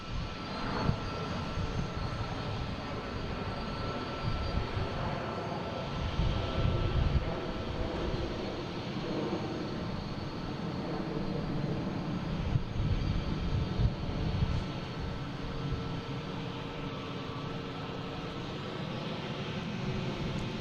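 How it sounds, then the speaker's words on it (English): JetBlue Airbus A321 jet taking off at Boston Logan airport, a distant, steady engine rumble with swelling roar and layered tonal whine, fairly faint and continuous, no voices over it. "We got a JetBlue heading to San Francisco, it looks like, an A321, flight 1633."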